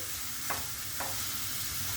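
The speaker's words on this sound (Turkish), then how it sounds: "Şimdi pırasalarımı kavuruyorum." Chopped leeks sautéing in a pan over medium heat give a steady, even sizzle throughout, with two faint stirring clicks near the start and no voices.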